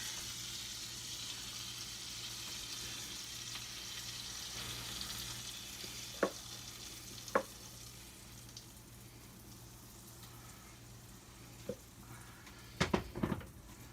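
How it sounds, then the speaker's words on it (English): Banana oat pancakes sizzle in a hot skillet, a soft continuous frying hiss throughout with a few sharp clicks and clatters of a utensil or pan, quiet and close, no talking. "we're just going to put 2 more pancakes, and I'll let these get done"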